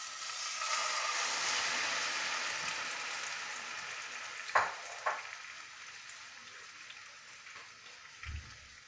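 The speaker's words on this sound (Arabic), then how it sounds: "عندنا هنايا جوج مطيشات محكوكين وواحد الثومه محكوكه كيف كتشوفوا معايا، وغنخويوها على هذا الزيت" Grated tomatoes and garlic frying in oil for a homemade pizza sauce, a steady hiss of sizzling throughout with a couple of sharper pops and a brief low clunk near the end, no voices.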